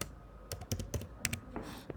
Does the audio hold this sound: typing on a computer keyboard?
yes